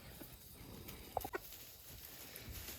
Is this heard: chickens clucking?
yes